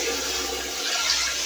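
A toilet flushes in a newly finished apartment bathroom, a loud steady rush of water that fills the whole moment with no talking.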